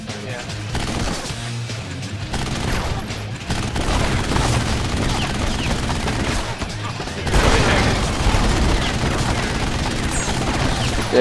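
Video game gunfire from Narco Terror rattles almost continuously in dense, loud bursts mixed with booms, while a player speaks briefly over the shooting.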